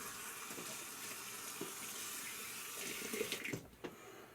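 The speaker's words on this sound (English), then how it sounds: "What we're going to do now is I'm going to rinse" Running tap water rinsing a King KW65 sharpening stone after chisel sharpening: a steady soft hiss of flowing water with a few splashes and clinks near the end, quiet and close, no talk.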